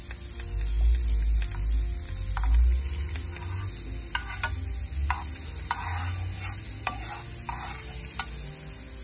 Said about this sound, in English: we're going to melt margarine into it